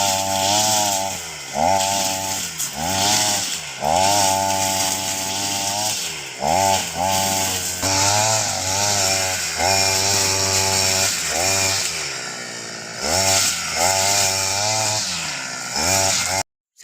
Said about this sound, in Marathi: ग्रास कटरची मशीन.